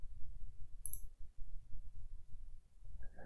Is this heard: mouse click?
yes